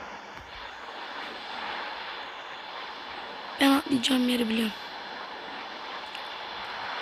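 Airplane engine in PUBG Mobile drones steadily throughout as a constant broad roar, with a voice speaking briefly over it in the middle.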